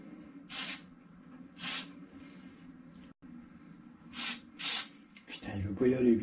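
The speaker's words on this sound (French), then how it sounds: "vous venez mettre à l'intérieur du spray." Spray lubricant is squirted into a Shimano Deore 5100 11-speed bicycle shifter in four short, close hissing bursts, and someone talks briefly at the end.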